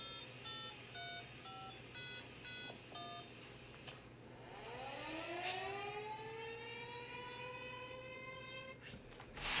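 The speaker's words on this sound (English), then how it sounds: "Malachi Smith got the monthly siren test at 12:05 from Janesville, Wisconsin." A monthly civil defense siren test in Janesville, Wisconsin opens with a run of electronic beeps, then the siren winds up into a long rising wail, fairly faint and distant.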